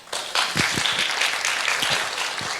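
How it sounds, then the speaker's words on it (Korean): Audience applause at an academic forum on Dokdo territorial rights and endemic plants, a steady burst of many hands clapping that fills the room for a few seconds, with no speech over it. "여러분 박수 좀 한 잔 치셨으면 좋겠습니다"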